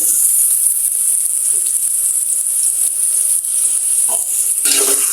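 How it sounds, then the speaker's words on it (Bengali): Onions stirring and lightly frying in a generous amount of oil, a steady close hiss of sizzling with a few soft scraping stirs near the end. "এখন নাড়াচাড়া করে হালকা ভেজে নিব"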